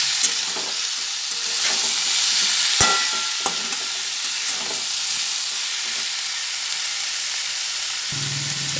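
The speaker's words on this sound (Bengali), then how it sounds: "সব দিয়ে দেওয়ার পরে আবার ভালোভাবে নাড়াচাড়া করে নিচ্ছি ভালোভাবে একদম কষিয়ে নেব" Potatoes and jackfruit curry being stirred and sautéed in a pan, with continuous loud sizzling and frying hiss, and occasional scrapes and knocks of the spoon against the pan.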